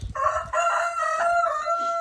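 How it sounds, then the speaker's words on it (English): A small rooster crows nearby, one drawn-out cock-a-doodle-doo with clear ringing harmonics, alone and fairly loud in a snowy outdoor setting. "I have that little rooster there."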